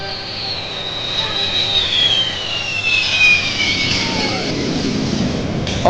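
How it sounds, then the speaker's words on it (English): A propeller airplane holds about 125 knots on steady throttle during a flyby at an air show in Batavia, New York: a loud, continuous engine drone with a slowly shifting pitch. "You'll hear a plane with the throttle to hold that speed."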